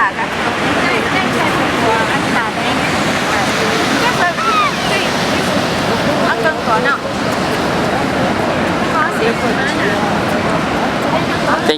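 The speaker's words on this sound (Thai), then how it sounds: "น้ำตกสวยมาก สีเขียวเหมือนมรกตเลยครับ" Niagara Falls roars as a steady, loud, broadband wash of falling water on a cold day, with wind buffeting the microphone and faint voices mixed in throughout.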